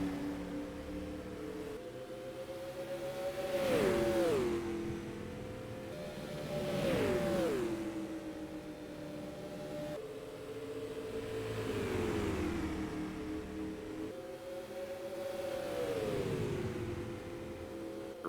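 Non-wing supermodified race cars lapping the mile oval at Phoenix, engines rising to a loud whine as each passes close by, then dropping in pitch and fading, repeating in a steady rhythm.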